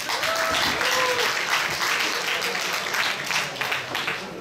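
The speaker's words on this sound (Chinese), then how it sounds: "掌声鼓励鼓励啊！" An audience at a fundraising dinner gathering applauds, a steady wash of many hands clapping at moderate distance that holds evenly for several seconds, with a brief spoken word near the start.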